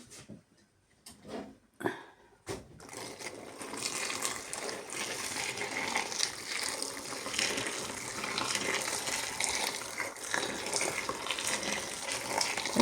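Freshly boiled water is poured from a kettle over peeled peppers in a pot, a sustained splashing gush after a few brief knocks and clinks at the start, close and fairly loud.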